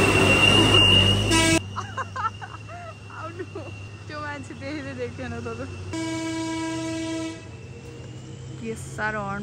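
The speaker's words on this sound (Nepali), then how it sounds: "के साह्रो हर्न बजाउने रहेछ हौ, घुम्ते भएर होला" On a winding hill road, a tipper truck sounds its musical multi-tone horn: a series of warbling notes, then a long steady blast, fairly close and loud over the background.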